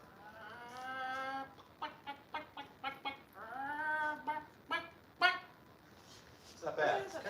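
A man imitates a chicken, clucking and crowing in a string of short, choppy calls and longer drawn-out squawks into a microphone at a live behind-the-scenes event, with some crowd noise around him.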